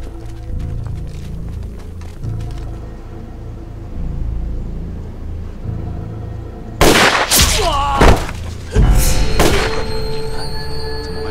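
Gunfire in an anti-Japanese war film set in jungle combat: after a rumbling, busy stretch, several loud, sharp bursts of shots crack out close together near the end.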